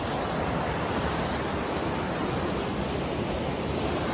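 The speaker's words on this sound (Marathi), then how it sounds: "पाण्याचा आवाज ऐकू शकता" A river flows in a steady, unbroken broadband rush that stays loud and even throughout, with no voices over it.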